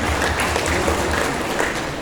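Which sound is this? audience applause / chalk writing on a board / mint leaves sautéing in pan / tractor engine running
audience applause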